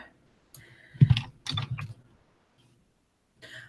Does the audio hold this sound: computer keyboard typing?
yes